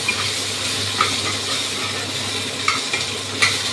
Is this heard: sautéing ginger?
yes